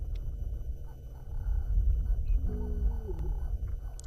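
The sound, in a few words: lioness roaring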